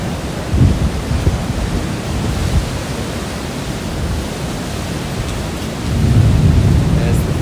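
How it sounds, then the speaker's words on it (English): Thunder rumbles through a typhoon in Baler, Philippines, a continuous low, broad roar that swells louder near the end, blended with storm wind and rain noise and no voices. "There's the thunder."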